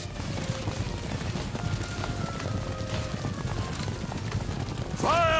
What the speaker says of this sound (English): There's some conveniently placed horses right next to us.